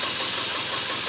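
A four-cylinder engine running on only two cylinders gives off a harsh, steady mechanical drone with rough, uneven pulsing, loud and close throughout the short stretch.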